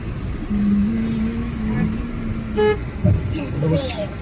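Road traffic heard from inside a moving family car, with a steady vehicle rumble, one sustained car horn honk, then a short toot and another brief honk nearby, while people talk over it.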